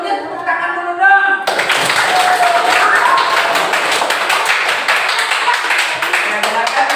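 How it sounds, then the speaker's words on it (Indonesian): A classroom group bursts into clapping, dense and loud applause from many hands filling several seconds after a brief moment of talk, with scattered voices mixed in. "Sebelumnya tepuk tangan dulu dong"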